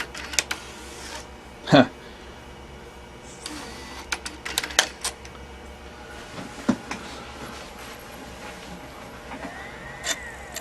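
Nakamichi 5-disc CD-ROM changer ejecting a disc, a series of mechanical clicks, clunks and short motor whirs at close range, with one louder knock early on and a brief murmur from a person.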